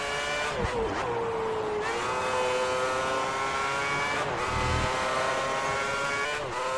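Formula 1 cars racing on the Singapore street circuit in a 2010-season racing video game: a loud, high engine whine climbing through the revs, with quick dips at gear shifts and another car's engine faintly layered underneath.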